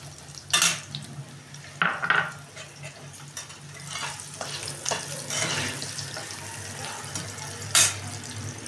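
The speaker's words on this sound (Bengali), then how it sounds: "আলুটাও ভালো করে ভেজে নেব।" Potatoes fry in a pan with a soft sizzle beneath intermittent close scrapes and clatters of stirring, a few sharper knocks standing out.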